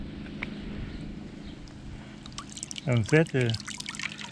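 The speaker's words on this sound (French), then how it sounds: "j'ai branché ma petite pompe de cascade" A small cascade pump runs while water trickles steadily into a garden pond, a soft continuous wash throughout; someone speaks briefly partway through.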